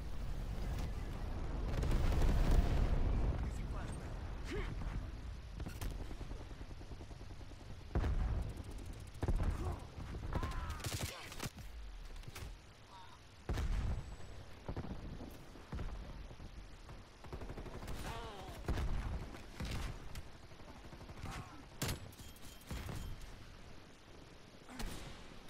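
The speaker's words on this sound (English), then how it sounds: "Sigma, napalm strike inbound." Napalm strike explosions in the Call of Duty: Black Ops Cold War video game, a heavy rumbling blast followed by a long stretch of scattered booms, crackling fire and rapid gunfire bursts at varying distances.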